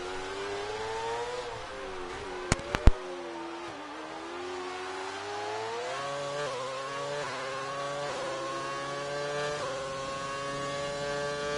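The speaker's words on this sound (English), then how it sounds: "listen to the V8 engine" A Formula 1 V8 engine heard onboard in a sim racing game wails continuously at high revs, pitch rising and falling through gear changes over several seconds, with a few sharp clicks early on.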